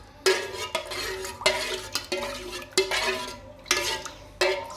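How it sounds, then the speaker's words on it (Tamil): A spoon stirs milk powder into ginger tea in a cup, making about seven sharp clinks against the rim at uneven intervals, each followed by a brief swirl, close and with no voices. "ஸோ போட்டுட்டு கொஞ்சம் லைட்டாக அப்படியே மிக்ஸ் பண்ணுவேன்."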